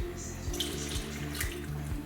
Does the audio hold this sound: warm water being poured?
yes